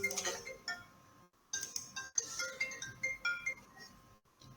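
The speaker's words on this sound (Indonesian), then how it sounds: "Ya ini Bu Nurbaya lagi telepon saya." Phone ringtone on an incoming call during an online meeting: bright repeated chiming tones in short bursts with brief gaps, fairly close, mixed with a little background noise.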